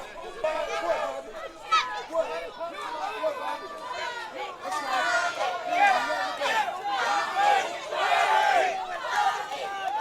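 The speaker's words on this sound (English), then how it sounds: "Crowd cheering for Ballantyne" A wrestling crowd at an indoor taping yells and cheers loudly and continuously, building into dense shouting and chatter, with a commentator's voice running over it.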